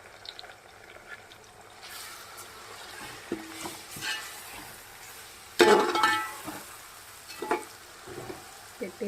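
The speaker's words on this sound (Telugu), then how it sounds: "పెట్టేసి చక్కగా వేగించాలి" Masala-marinated prawns for biryani fry in a pan with a soft sizzle, broken by scraping stirs and a louder burst of crackling midway.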